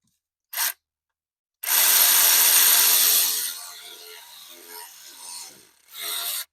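A small power gun seats a diesel injector in a 6.0 Powerstroke engine, giving a short blip and then a sustained whirring buzz of about two seconds that fades, with a brief final burst, close and loud.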